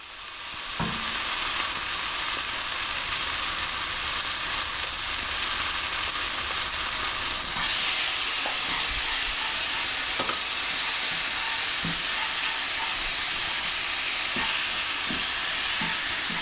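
Mild curry paste with ginger garlic paste fries in a pan for a British Indian restaurant chicken karahi, a constant bright sizzle running the whole time, with occasional soft clicks and scrapes of a utensil stirring.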